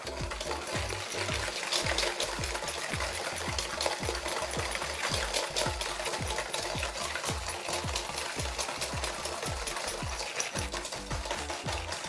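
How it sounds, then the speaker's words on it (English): Sugar and salt whisked together in a tilted bowl, with fast regular scraping strokes repeating about twice per second, close and steady for the whole stretch. "now we're going to whisk these together just so we can get the dissolve going with the sugar and the salt"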